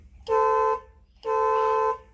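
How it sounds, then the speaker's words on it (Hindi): A loud, deep aftermarket horn on a Maruti Gypsy honks twice, each blast held for about half a second, with a short pause between. "हॉर्न भी हम काफ़ी बड़ा वाला हॉर्न लगाए,"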